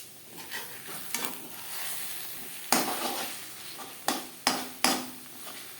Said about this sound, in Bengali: এইভাবে একটু নাড়াচাড়া করে দেব